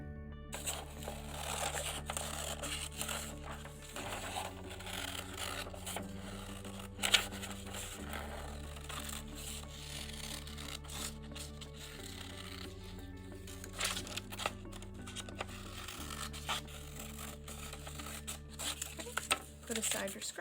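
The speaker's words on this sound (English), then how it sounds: "we're gonna take our heart template and we're just gonna go ahead and cut it out" Scissors snip through paper while a heart template is cut out for a wreath craft, quick close cuts and rustles scattered over steady background music.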